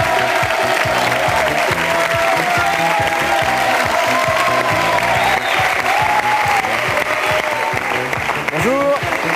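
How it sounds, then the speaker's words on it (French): Strong studio audience applause on a French television show, loud and continuous for over nine seconds, with cheering and a host's voice talking over the clapping. "Je vous demande de les applaudir."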